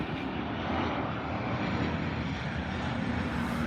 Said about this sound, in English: A Ryanair 737.